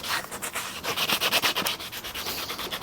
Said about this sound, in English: So David is in there doing it, rubbing down the other one